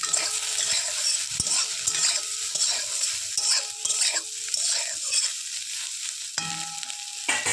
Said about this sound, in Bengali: কড়াইয়ের মধ্যে এখন দিয়ে দিচ্ছি তেল, সয়াবিনগুলো ভেজে নেব।